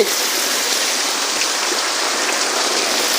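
Steady heavy rain pouring onto a flooded street where water has submerged the roadway after ten hours of downpour, a continuous broadband wash of water with no pauses, close and fairly loud.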